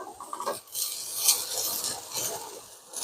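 Shallots sweating in a home pan are stirred with a utensil, giving irregular scraping, rasping strokes over a faint sizzle, close and fairly quiet.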